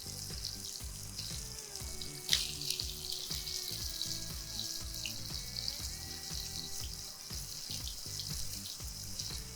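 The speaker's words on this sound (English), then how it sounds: "I can hear these nicely sizzling away" Spicy chicken burgers sizzling steadily under a grill, a continuous crackling hiss with faint clicks and a brief clatter partway through, no voices.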